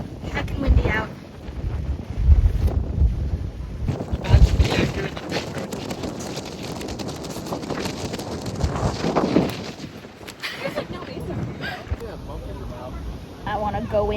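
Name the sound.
wind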